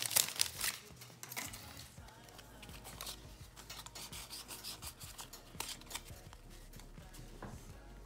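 A Pokémon card booster pack is opened, with close, quiet foil rubbing and crinkling followed by a series of soft brushing and sliding sounds as the cards are handled.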